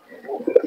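A pigeon gives a single short, soft coo up close at a pigeon market in Murshidabad, with no other voices.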